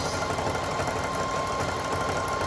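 A sewing machine runs steadily through a zigzag stitch on a jelly roll rug, its close, continuous mechanical whir and rapid needle chatter never pausing.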